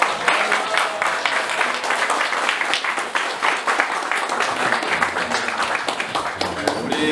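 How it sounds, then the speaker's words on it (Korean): A church congregation claps in thanks for a cell center organizing team standing in their seats, with crisp, uneven close-up hand claps across seven seconds and voices mixed in among them. "우리 박수로 한번 감사합니다."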